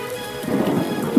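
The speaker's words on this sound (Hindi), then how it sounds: "अचानक तेज बारिश शुरू हो गई।" Heavy rain suddenly starts pouring over a farm field, a dense, steady hiss that swells within about a second, loud and with no other sound over it.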